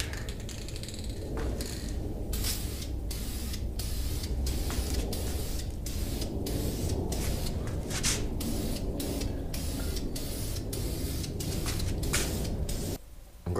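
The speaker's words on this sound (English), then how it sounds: "these cans don't seem like they're spraying very well" Spray paint cans hiss in repeated short bursts onto an aluminum wheel, each blast starting and stopping abruptly with brief gaps between them, close and fairly loud.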